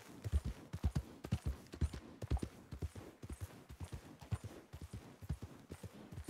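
Horse hooves clip-clopping in the Red Dead Online (RDR2, PC) game, a steady rhythmic run of close, distinct hoofbeats continuing for several seconds with no voices over them.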